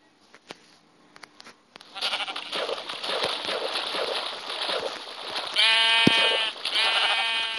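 A Minecraft sheep bleats repeatedly, a wavering, drawn-out cry near and loud, over a quiet background with a few soft clicks.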